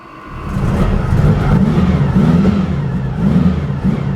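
A Volkswagen Baja Bug Beetle overlander pulls away and drives, its air-cooled engine rumbling loudly and close with a throaty, rising drone and slight revving pulses.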